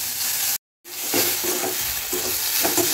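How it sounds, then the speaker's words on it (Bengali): Radish stirred and fried in a pan, a loud, close sizzle with scraping stir strokes that cuts out for a moment of silence and then resumes steadily, with no speech. "নাড়াচাড়া করবো অনেকক্ষণ, একটু ভাজা ভাজা করব"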